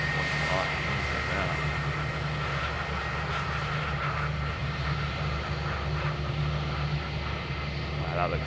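A Jetstar Airbus A321 airliner at Adelaide Airport makes a steady, distant engine roar and drone that holds level throughout, with a faint tonal hum underneath and no break.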